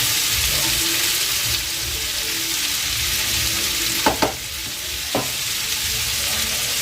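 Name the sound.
stirring ivy gourd with salt and turmeric in a pan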